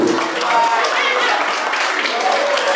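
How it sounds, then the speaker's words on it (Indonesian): An audience at an elementary school ceremony in SDN 05 Patilanggio, handing out end-of-semester results, applauds in a steady, dense wash of clapping that holds evenly loud throughout. "Ya, berikan aplaus dulu"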